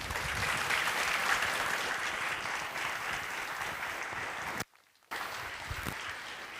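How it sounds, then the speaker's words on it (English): An audience at a conference panel gives a sustained round of applause, a dense, even wash of clapping that cuts off briefly near the end and then resumes. "So please give me a round of applause."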